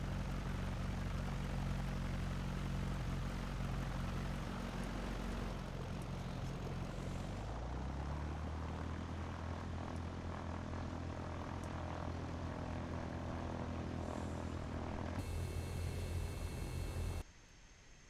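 Steady propeller aircraft engine drone in a flight simulator game at an airfield, loud and continuous, with a shift in pitch partway through before cutting off near the end.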